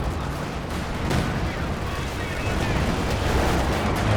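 Panzer IV tank being destroyed in the Company of Heroes 2 strategy game, a dense rumble of artillery blasts and gunfire rolling on steadily at mid distance.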